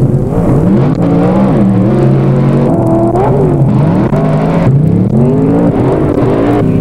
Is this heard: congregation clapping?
no